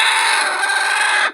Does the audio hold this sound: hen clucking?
yes